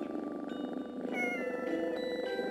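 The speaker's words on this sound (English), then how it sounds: "This room is filled with kitties!" Cats meowing in the video game Pocket Mirror, a room full of cat butlers, with high tonal cries layered over steady game music throughout, loud and close.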